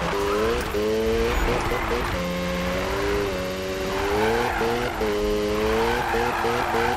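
A racing game car drifting with squealing tires in repeated stretches over a steady engine drone, skids rising and falling in pitch across several seconds, with a voice talking underneath.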